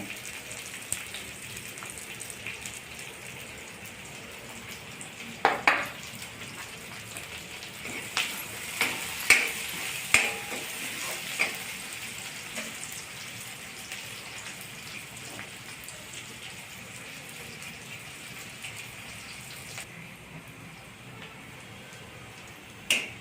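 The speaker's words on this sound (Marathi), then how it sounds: "कांदा सुद्धा थोडा लाल होईपर्यंत तेलात परतून घेणे" Onion frying in oil in a pan for a green chickpea curry, a steady soft sizzle and crackle throughout with scattered sharper pops.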